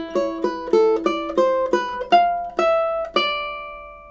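Two measures of A Little Flower are played on ukulele at an even slower pace, with close, clear plucked notes spaced out more and more and the last note left to ring and fade.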